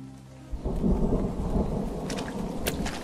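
Thunder rumbles low and heavy over steady rain in an audio drama set in a forest, the roll starting abruptly after a quiet moment and sustaining under a hiss of falling rain.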